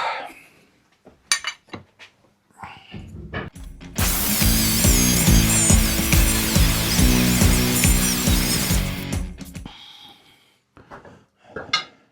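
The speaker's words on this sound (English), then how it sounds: "I've got to grind the galvanizing down" An angle grinder grinds the galvanized coating off steel legs for a scrap-metal barbecue grill, a loud continuous whine for about five seconds between quieter clanks and handling knocks.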